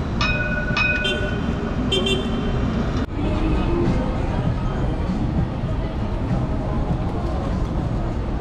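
Tram passing along a busy street in Rio de Janeiro: a loud continuous rumble of wheels on rails with tonal squeals and horn-like toots early on, surrounded by city traffic noise and some talking.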